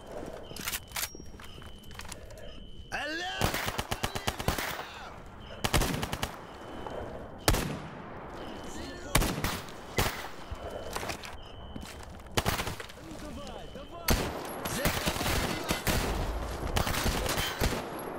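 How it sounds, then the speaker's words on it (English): Gunfire in STALKER GAMMA: loud, close machine-gun bursts and single shots in irregular clusters, sharp and echoing, with footsteps and movement between volleys. "They're already shooting."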